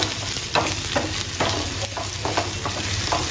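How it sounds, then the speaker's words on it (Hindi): Sliced onions and a few dried red chilies sizzle and fry in hot oil in a pan for a kadhi tadka, a steady crackling hiss with occasional stirring scrapes, close and continuous without speech. "ये देखिए हमारा तड़का ब्राउन, हमें अच्छे से भून लेना है"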